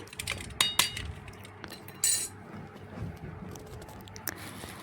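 A spoon stirs salt into pumpkin flowers in a bowl, making a few light clinks and scrapes against the dish amid soft kitchen handling, fairly quiet and close.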